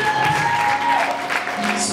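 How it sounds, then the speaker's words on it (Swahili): Church congregation clapping in applause, a dense burst of hand claps mixed with voices and crowd noise throughout. "Mpe Yesu makofi."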